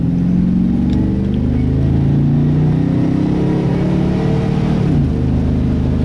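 A pickup truck with a 6-liter engine accelerates on a drive in the rain, its steady mid-range engine drone rising and falling under road and rain noise, heard close from inside the cab with no talking.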